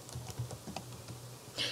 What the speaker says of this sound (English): typing her name,